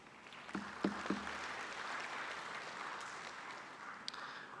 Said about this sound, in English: what really remains is for us to give them a big round of applause